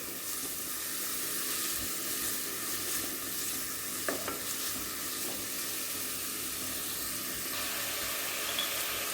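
Onions sautéing in a pan for rava pathiri, a steady close sizzle with occasional stirring scrapes running the whole time, with no voices.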